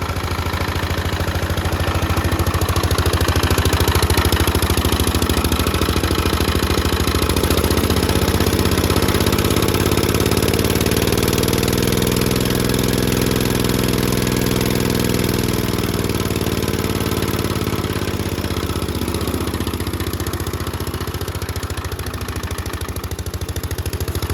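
A Bolens 1250 garden tractor engine, rescued from a junkyard and missing a fuel pump, runs steadily at idle, a loud, close, continuous mechanical drone with a slight rise and fall in pitch and no speech.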